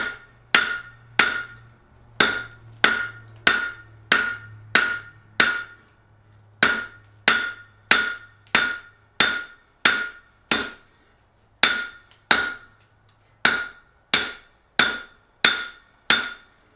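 Sharp ringing hammer blows on hot metal over an anvil horn during forging, about twenty strikes in quick rhythmic bursts with short pauses, close and loud, with a faint low hum beneath.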